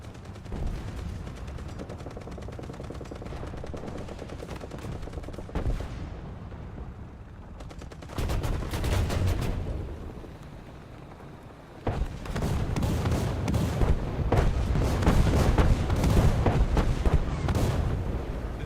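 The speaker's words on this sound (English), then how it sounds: "That artillery will kill me." Artillery fire booms repeatedly in the tank game War Thunder, a dense run of heavy blasts and rumbling impacts that swells louder in bursts, with loud stretches near the middle and toward the end.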